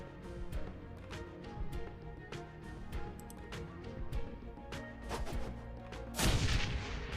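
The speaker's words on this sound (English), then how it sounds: "Frag grenade." Frag grenade going off in the turn-based video game Shadowrun: Hong Kong, a sharp booming burst near the end that follows steady game combat noise and background music.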